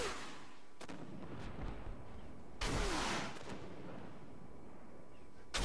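Missiles fire in a video game, with booming launch blasts and a long roaring burst in the middle over a steady rushing background, loud and close, with no voices.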